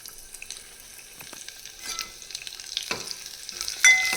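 Crushed garlic sizzles in a pan for mango dal, a soft frying hiss broken by scraping stirs and a few clinks of a spoon against the metal, close by and with no talk.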